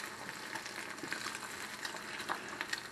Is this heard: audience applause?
no